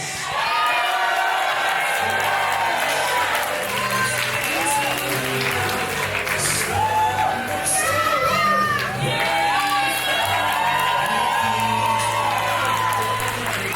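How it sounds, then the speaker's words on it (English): A pro wrestling crowd at a 2026 event cheers, whoops and applauds as a unionized tag team arrives, with loud sustained crowd noise, shouts and a low rumbling music bed underneath. "The unionized Slam Boys arriving to applause."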